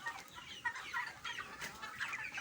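Chickens about 29 days old clucking softly and continuously nearby, several birds overlapping in a quiet, busy chatter.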